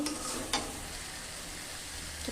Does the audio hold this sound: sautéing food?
yes